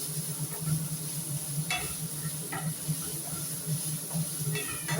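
Curry leaves crackle in hot oil in a pan over a medium flame, a steady soft frying hiss with scattered faint pops and a low hum behind.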